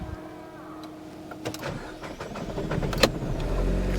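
An Alfa Romeo Brera in poor, long-neglected condition cranks with a rising, uneven churn that strengthens toward the end, a sharp burst near the close as it nearly catches, all fairly close and with no speech over it.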